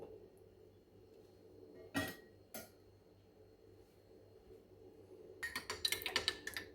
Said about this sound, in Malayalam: സ്പൂൺ വെച്ചിളക്കി കൊടുക്കാം.